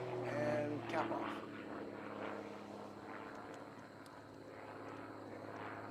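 A propeller-driven aerobatic airplane at an unlimited power competition throttles back before a spin, its engine drone steady then easing off, heard from a distance with a commentator talking over it.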